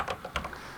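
Quick, close key presses on a Commodore 64 Ultimate keyboard, a few soft clicks in under a second, with no talking.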